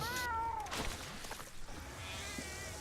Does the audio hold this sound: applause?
no